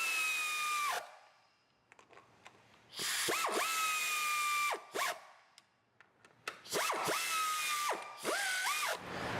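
Hand tool bolts being run down on a Toyota Highlander's ignition coils: bursts of mechanical ratcheting with rising and falling whirring tones, separated by short quiet pauses, close and fairly loud with no talking.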